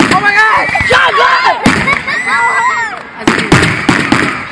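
Fireworks and firecrackers at a neighborhood display burst in sharp irregular bangs, several close and loud, under constant excited shouting and chatter from a nearby group.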